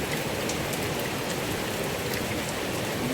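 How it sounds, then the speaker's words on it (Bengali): Heavy rain pours steadily outside, a dense, even hiss of drops on surfaces with no let-up and no voices. "বাইরে দেখো ঝমঝম করে বৃষ্টি নেমে গেছে, অনেক জোরে বৃষ্টি নেমে গেছে"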